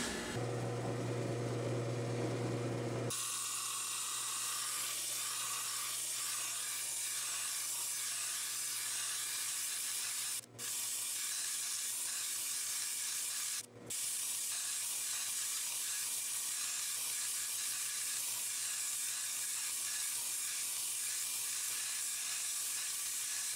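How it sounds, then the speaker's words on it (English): Grinder wearing down the side of a chain coral fossil, a loud continuous hissing, rasping roar that starts after a few seconds and runs steadily with two brief dropouts. "I think I'm going to grind this side down"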